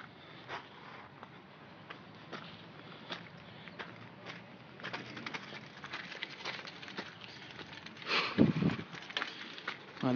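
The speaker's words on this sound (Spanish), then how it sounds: "ya empezó a llover" Rain patters steadily outdoors as a shower starts, a dense soft hiss with scattered drops that grows heavier toward the end, with no talking.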